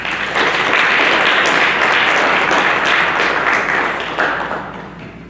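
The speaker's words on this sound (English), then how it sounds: "So please let's all welcome him with a round of applause." An audience gathered for a lecture on Shi'i law welcomes the speaker with sustained applause, a steady wash of many clapping hands that holds at full strength and then begins to fade.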